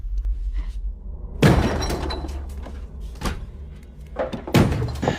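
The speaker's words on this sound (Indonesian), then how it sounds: "di belakang pintu apartemen Om Jun ada seseorang yang sedang mendobrak pintu." A door being forced open in a zombie film: heavy crashing blows and splintering impacts, two big hits among smaller knocks and rattles, loud and close.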